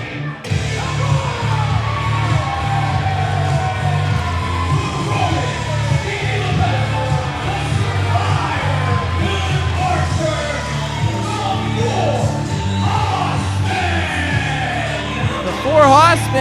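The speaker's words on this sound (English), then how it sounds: "this crowd is on their feet. I can't even hear myself think right now." Wrestling crowd on its feet at a live professional wrestling show, loud continuous yelling, whooping and cheering filling the hall, with shouted voices and a brief whistle near the end.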